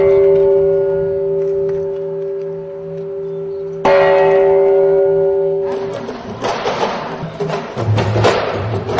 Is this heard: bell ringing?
yes